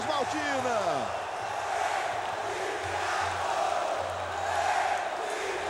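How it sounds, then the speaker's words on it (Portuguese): Vasco fans roar in the Engenhão stadium after a 3–2 semifinal win over Flamengo in the Taça Rio, a broad, steady crowd cheer that fills the clip while a commentator speaks over it. "Vibra a torcida Cruz Maltina."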